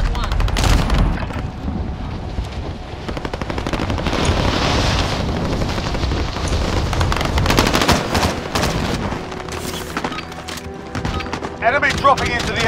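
Rapid machine-gun and rifle fire in the video game Call of Duty: Modern Warfare, dense repeated bursts and shots throughout, loud and close, with voices talking over it.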